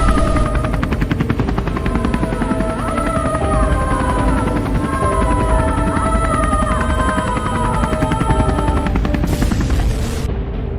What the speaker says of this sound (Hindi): गुल्ली जैसे ही हेलीकॉप्टर उड़ाता है और थोड़ा ऊपर जाता है